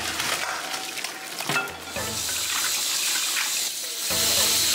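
Water poured into a hot wok holding lamb pieces that were stir-fried with Sichuan peppercorn wine, a steady rushing gush and sizzle lasting several seconds, loud and close.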